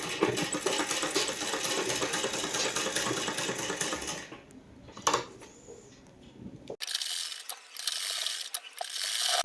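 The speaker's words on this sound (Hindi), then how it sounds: "इस पर भी सिलाई लगा लेंगे" A sewing machine stitches around a suit neckline with a rapid, close mechanical clatter for several seconds. After a short pause it starts again in a second brief run.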